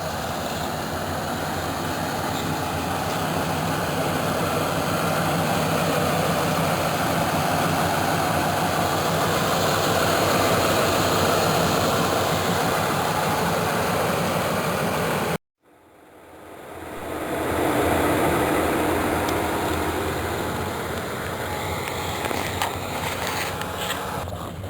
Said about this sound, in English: 305 Chevy V8.